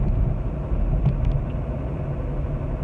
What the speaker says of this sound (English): you do get a little bit of rumbling from the clutch pilot bush